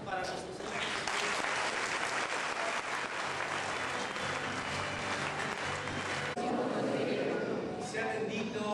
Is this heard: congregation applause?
yes